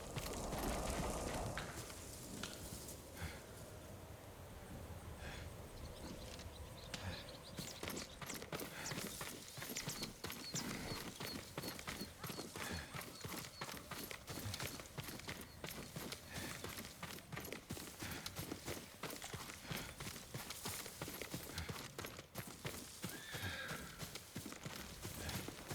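A horse in a samurai-era game world clip-clops along at a steady rhythmic pace with a whinny near the start, hooves close and continuous over a quiet outdoor ambience.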